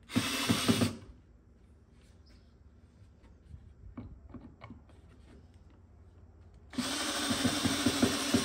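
A power drill drives screws into pocket holes, fixing a custom base to a painted campaign dresser: two loud close whirring bursts, one at the start and one at the end, with quiet clicks and handling noises between them.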